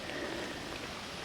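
Pouring rain hisses steadily and densely over an outdoor home carp pool, an unbroken wash of noise with no distinct drops or voices in this brief moment.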